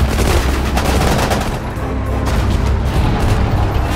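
Sustained automatic gunfire in the WWII strategy game Sudden Strike 4, a British desert campaign at El Alamein, with dense overlapping bursts and booming battle noise running loudly throughout.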